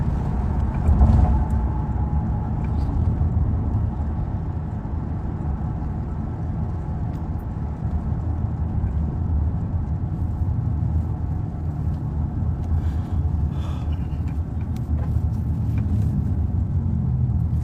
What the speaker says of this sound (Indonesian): Laju banget itu mobil.